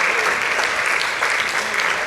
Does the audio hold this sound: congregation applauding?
yes